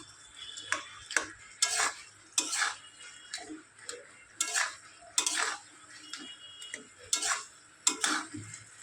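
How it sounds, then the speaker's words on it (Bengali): Ash gourd being sautéed with fish head, chili, ginger and cumin, heard as a spoon or spatula scraping and clattering against a pan in irregular bursts of strokes, close by, with a faint sizzle between them and no talking. "লঙ্কা আদা জিরে ও মাছের মাথা দিয়ে চাল কুমড়োটাকে ভালো করে কষিয়ে নিতে হবে"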